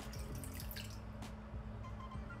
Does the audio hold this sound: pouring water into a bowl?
yes